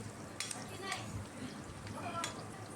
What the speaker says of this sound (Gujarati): ડુંગળી જે કટિંગ કરી છે તેને નાખીશું તો ડુંગળીને બે થી ત્રણ મિનિટ સુધી આપણે હલાવતા જઈશું